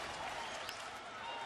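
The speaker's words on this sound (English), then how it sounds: "Crowd is amped up." Baseball stadium crowd cheering during a Milwaukee at St. Louis game in 2011, a dense steady roar of many voices filling the ballpark, continuous and fairly loud without distinct claps.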